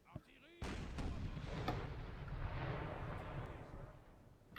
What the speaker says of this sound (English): Most of the cannons are missing its mark,